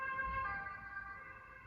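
An ambulance siren outside, heard alone as a steady, moderately loud wail of stacked tones holding through the short stretch with no talk over it.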